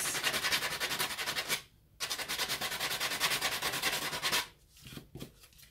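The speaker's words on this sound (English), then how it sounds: "60 grit sandpaper, and just give that an initial rub to get rid of any" Wood is hand-sanded with 60 grit sandpaper, a loud close series of rapid rhythmic back-and-forth rasping strokes that breaks off briefly, resumes, then ends in a few short final rubs.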